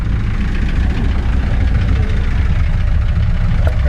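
A 1929 Whippet car engine running at idle, a loud, close, steady low rumble with a regular knocking pulse and no one speaking.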